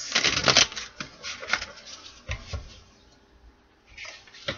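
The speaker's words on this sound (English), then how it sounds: "Let's do two more shuffles." Tarot cards are shuffled in rapid crisp riffles and soft flutters close to the listener, in several quick bursts with short pauses.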